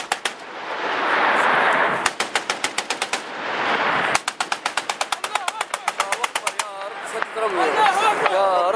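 Machine gun fire during clashes west of Nalut, Libya, in May 2011: loud, close bursts of rapid rhythmic shots broken by brief pauses, with voices shouting underneath.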